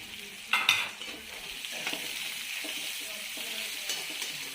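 Sliced onions fry in hot oil for veg noodle pakoda, a soft continuous sizzle with a few sharp clinks of a spoon stirring in the pan, close and fairly quiet.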